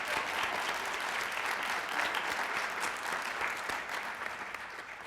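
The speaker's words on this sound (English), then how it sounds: "How about one more round of applause for everybody?" A school PTA Founder's Day audience gives volunteers a full, dense round of applause that stays loud and steady, then eases slightly toward the end.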